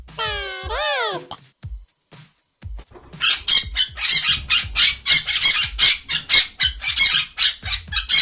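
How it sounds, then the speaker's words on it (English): A parrot squawking in a rapid series of harsh, loud calls, following a short rising and falling whistle-like tone and a pause. "Parrot."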